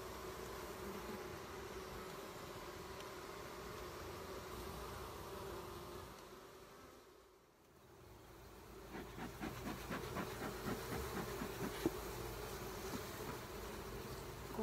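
Honey bees at a hive, a dense, continuous buzzing swarm heard close up, briefly dipping quieter midway, then returning with rustling and faint clicks under the steady hum.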